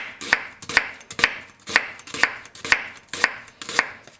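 A Yamashin Funayuki White #1 165 mm knife julienning onions on a board makes eight crisp, evenly spaced chops, close and clear with no voices.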